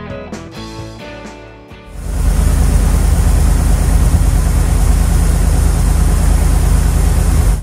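A 1978 Ford F100 pickup engine, fresh from an oil change, fires up about two seconds in after a few clicking cranks, then runs loud and steady with a deep, even rumble.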